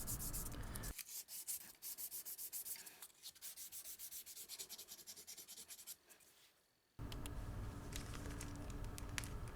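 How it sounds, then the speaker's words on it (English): A Gibson LG-0 guitar bridge is rubbed with fine 320 and 400 grit sandpaper in quick, steady back-and-forth strokes, close and soft, pausing briefly near the end before resuming. "Then I'll hit it with some 320 grit sandpaper and 400 grit"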